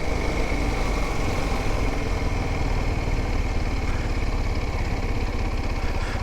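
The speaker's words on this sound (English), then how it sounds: "let's slow down a little bit here, and I'll let you hear what the bike's doing" A Kawasaki Ninja 125 motorcycle engine runs steadily and loud throughout while slowing down, a continuous low rumble with no clear pitch drop, no voices over it.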